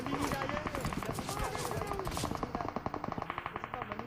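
Gunfire in a battle-royale video game with AWM and Groza weapons, rapid automatic bursts and repeated shots at moderate distance, mixed with a voice talking over the action.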